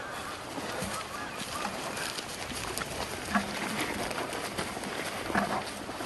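Wild turkey calls near the hunting grounds of a mechanized turkey caller: two short, honking fowl calls rise briefly over a steady noisy outdoor background, spaced a couple of seconds apart.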